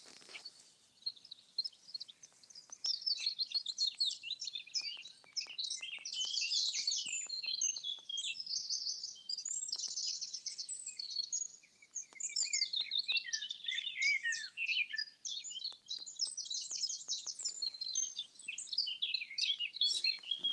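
Birds chirp and sing continuously outside a 13th-century church, a dense, bright mix of overlapping tweets and trills, fairly faint and distant, with occasional soft clicks.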